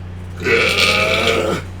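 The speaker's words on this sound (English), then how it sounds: "I don't think you're supposed to be burping." A single loud, close burp after drinking Sprite, a drawn-out croaking belch lasting about a second over a low steady hum.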